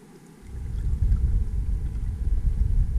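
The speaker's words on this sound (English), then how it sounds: "the only noise being the gentle slapping of water against the hull" Gentle water slapping against the hull of an inflatable boat on Loch Etive, a soft continuous low lapping and rumble that swells in after a quiet start and goes on alone, close and faint.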